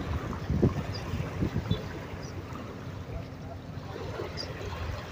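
Steady rush of rough sea waves and wind noise near the shore at Dumaguete Port, Negros Oriental, with low rumbling surges and wind buffeting the microphone, continuous and fairly loud.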